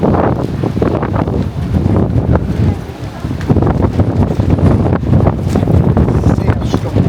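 Strong wind buffets the microphone on a Gran Canaria beach during a sandstorm, a loud continuous roar with gusty surges and a brief lull near the middle, with a voice talking underneath.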